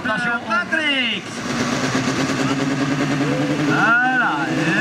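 A compact diesel race car's engine hums at an event at Silly, Belgium, holding a steady mid-pitched drone under someone talking loudly nearby.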